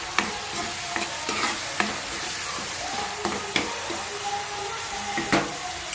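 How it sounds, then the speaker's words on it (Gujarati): Food, likely paneer, sautés in a hot pan with a continuous sizzle, broken by repeated sharp spatula taps and stirring scrapes at an irregular rhythm, close and fairly loud. "સરસ બધું આપણે સોટે કરી લઈએ"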